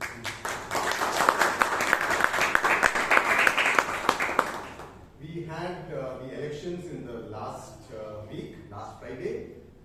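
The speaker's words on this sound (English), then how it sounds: "Brian definitely deserves that applause and recognition" Loud, crowded hand clapping from an audience at a Bangalore Toastmasters meeting, lasting several seconds before stopping abruptly, after which a person begins talking.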